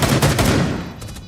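Rapid in-game gunfire from Rainbow Six Siege during a bomb defusal round, a short burst of close, sharp shots in quick succession with no voices.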